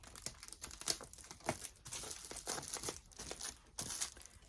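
Cellophane crinkling and twisting close by as it is wrapped on a jumbo lollipop and taped to itself, bursts of crisp crackle and rustle in an uneven rhythm, quiet and with no talking.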